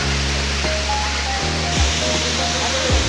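A steady broadband rush of water falls at Das Khadka waterfall beside a dam, heard under tonal voices and crowd murmur from visitors nearby.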